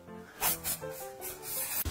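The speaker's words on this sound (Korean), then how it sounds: "제가 퍼퓸 스프레이 가져왔거든요" Short bursts of perfume spray hiss in repeated puffs, loud and close, set against steady background music with no talking.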